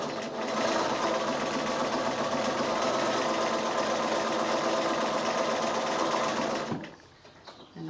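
A sewing machine stitching quilt appliqué runs in a steady, fast mechanical whir for about seven seconds, then stops abruptly with a faint handling noise.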